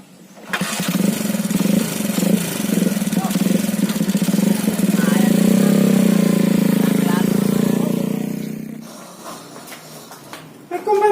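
A motorcycle engine runs close by with a steady, loud drone that holds for several seconds before easing down, while people talk over it.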